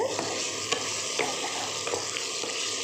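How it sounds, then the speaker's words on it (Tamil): A brinjal and potato curry is stirred in a pan, with soft scraping strokes at a steady rhythm over a low, continuous sizzle of frying. "நல்லா கலக்கி விட்டுடலாம் பாருங்கள்"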